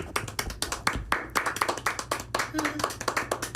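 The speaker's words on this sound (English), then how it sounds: "a round of applause" Small group clapping for a movie trivia quiz winner, distinct close hand claps in an uneven rhythm, with people talking over them.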